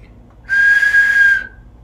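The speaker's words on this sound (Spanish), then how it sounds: "la tecnología de las botellas silbadoras son con silbato" A shamanic whistling bottle gives one loud, steady high whistle lasting about a second, starting abruptly and fading out, alone against a quiet background.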